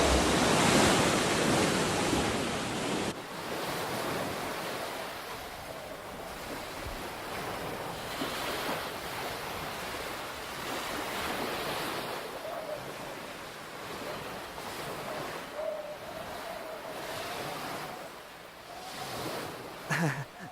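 Ocean waves washing onto a cold seashore, a steady, full roar of surf mixed with gusting wind across the microphone, continuous for the whole stretch with no voices.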